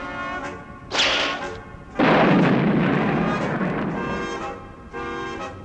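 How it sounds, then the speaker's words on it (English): Gunfire in an Underdog cartoon, with bullets bouncing off the hero, comes in loud, booming bursts: a short one, then a long sustained volley, and a final shorter one. "The bullets are bouncing right off him, Eel."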